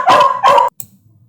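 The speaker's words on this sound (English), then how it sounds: "I think you just heard my little dog say hello to you all" A small dog barks twice at home, two loud close yaps in quick succession, then quiet room tone.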